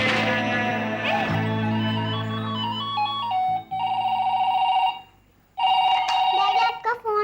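A telephone rings in a warbling electronic tone, loud and close, in repeated bursts separated by a short pause, over a sustained musical drone.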